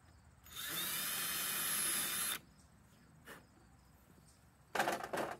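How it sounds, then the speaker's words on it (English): A power drill bores pilot holes into the thin wood of an old dresser drawer in one loud, steady whine of about a second and a half, then a short click and a second brief burst near the end. "We're just going to pre-drill a little here."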